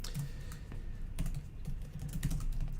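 Steady clatter of keys on a computer keyboard while entering timetabling codes into scheduling software, a close, continuous run of taps with no talking.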